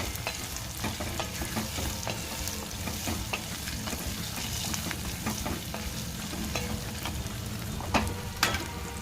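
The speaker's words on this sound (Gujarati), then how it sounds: "તેમાં વટાણા પણ ઉમેરી દેશું અને સિંગદાણા પણ ઉમેરી દેશું સારી રીતે ચલાવી લેશું" Peas and peanuts being stirred in a frying pan while making rawa upma give a steady sizzle with scraping strokes of a spoon, close and continuous, with a couple of sharper clinks near the end and no talking.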